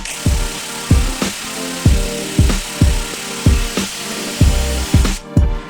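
A power tool, likely an impact wrench, tightens the bottom coilover bolt on a Chevy Cruze. It fires a regular series of about eight sharp hammering bursts, close and loud, with no talking.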